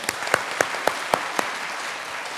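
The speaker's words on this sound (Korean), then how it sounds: "박수 한번 쳐주세요." Applause in a church after a drama performance, a light scattering of claps with a few distinct, spaced hand claps over a soft background patter, fairly brief.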